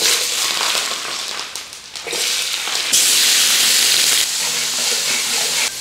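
Sichuan peppercorns and garlic fry in hot lard in a wok, a loud steady sizzle and hiss that swells as more goes into the oil, with no talk.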